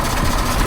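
A KAMAZ 740 Euro 2 truck diesel engine, just reassembled after a fuel-injection-pump drive repair, runs steadily at close range with a dense, loud rumble and no speech.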